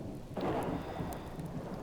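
Thunderstorm in the survival game Subsistence: a low rolling rumble of thunder over a steady hiss of rain, fairly faint and distant, with no voices.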